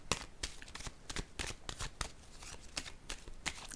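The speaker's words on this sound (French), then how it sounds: "Je vais déposer une carte ici." Tarot-style cards are handled on a table during a reading, making a quick series of soft, close papery clicks and slaps at an irregular rhythm, fairly faint, with no speech.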